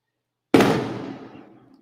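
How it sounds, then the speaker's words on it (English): A single firework popping outside: one sharp bang after a moment of silence, followed by a rumbling decay that fades over about a second. "people are popping fireworks and it's not even July."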